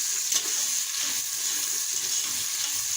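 Onions browning in a pan with tomatoes, green chillies and ginger added, giving a steady, close frying sizzle with faint stirring scrapes, no talking.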